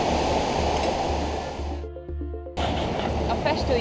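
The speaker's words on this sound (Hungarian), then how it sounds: "Mert hogy semmi nem hallatszik, mert annyira zubog ez a vízesés." The waterfall at Blagaj near Mostar, Bosnia roars as a loud, continuous rushing of water, briefly cut off mid-clip before the full steady torrent returns.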